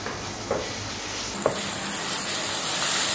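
Curd added to a spiced mutton liver masala frying in a pan brings a steady hissing sizzle that swells louder partway through, with a couple of light knocks, heard close and alone.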